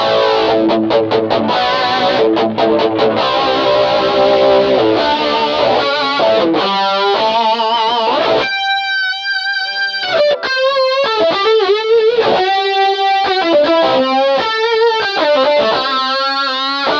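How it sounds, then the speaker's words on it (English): An MXR Rockman X100 analog tone processor in distortion mode, its highest-saturation lead setting, drives an electric guitar through loud sustained notes and bends after opening chord stabs, played steadily without talk. "let's move on to distortion mode, which is going to be the highest saturation mode and kind of what you're going to be using for leads."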